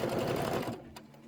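A sewing machine stitches in a fast, steady whirring rhythm close by for most of the moment, then stops and leaves a quiet hum.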